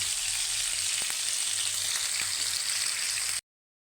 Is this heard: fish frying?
yes